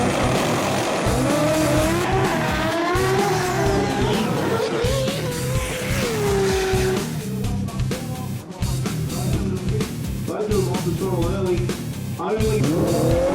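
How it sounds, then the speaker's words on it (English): A 2JZ-powered Arion drag car races at a drag-racing event, its engine roaring loud and continuous with rising and falling pitch through gear changes, heard without any voice over it. "Tony Wedlock back out to impress in his 2JZ powered Arion."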